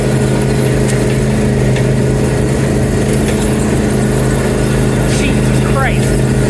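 Overclocked 12-volt ride-on toy car driving at full throttle, a constant buzzing electric motor drone close by with steady hum throughout, with people talking over it.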